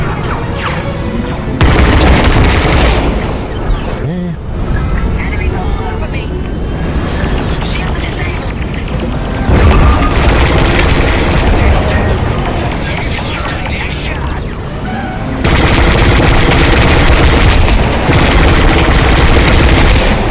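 Explosions and gunfire from the Star Wars: Squadrons space combat game roar almost without pause, with deep booms and dense crackling bursts that swell and ebb in waves at high volume.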